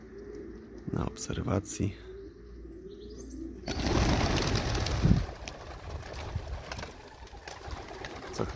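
Pigeons in an outdoor loft coo softly among other bird chirps and wing flaps, with a person speaking briefly over them and a louder rustling section partway through.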